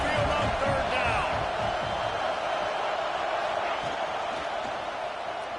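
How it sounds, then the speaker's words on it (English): Loud, steady roar of a big stadium crowd at a college football game between Alabama and Washington, rising on a third down. It fills the whole stretch as a dense wash, with a game commentator talking over it. "The Tide crowd rolling noise down on the Saban field on third down."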